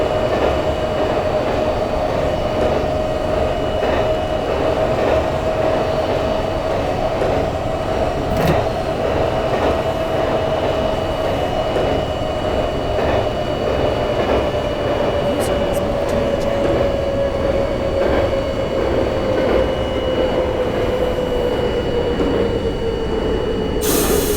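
A New York City subway train on the A line toward Rockaway Park in the OpenBVE train simulator runs with a steady rolling rumble and a slowly falling motor whine, continuous and close throughout.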